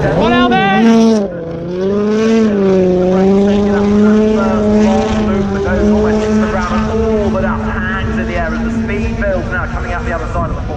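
A Red Bull rally car at Wales Rally GB 2018 blasts past over a jump, its engine note rising and holding loud and near for several seconds before fading slightly.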